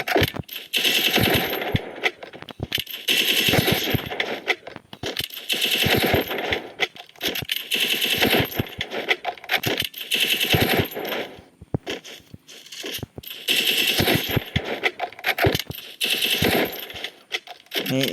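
Automatic weapon fire in a shooting video game, with repeated rapid bursts of shots and short pauses between them, loud and close throughout.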